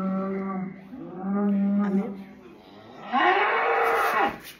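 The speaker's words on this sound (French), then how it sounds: "Voici un son de taureau." A bull's bellow played through an Alexa smart speaker: two long, deep, moaning calls in succession, loud and close, with no talk over them.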